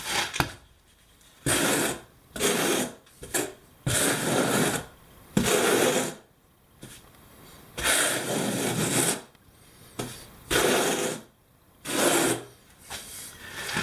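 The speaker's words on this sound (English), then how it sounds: "I'm gonna spread some more into it." A trowel spreads tile mortar in repeated scraping, rasping strokes, each lasting about a second with short pauses between them, close and fairly loud with no talking.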